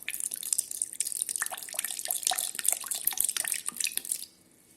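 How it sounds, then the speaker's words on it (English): Chilled water poured into a lassi mixture with lemon juice and black salt, a steady bright splashing and dripping stream close by that continues for about four seconds, then stops abruptly. "Add in a cup of chilled water."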